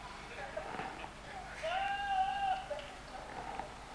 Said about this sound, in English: Have you guys seen the yelling goats?